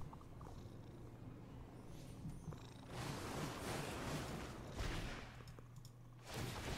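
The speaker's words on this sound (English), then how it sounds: "that's that cat making that purring noise" A cat purrs repetitively in a video game, a low rumbling loop mixed with louder bursts of broadband game noise.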